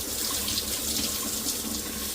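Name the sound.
rinsing K&N air filter under running water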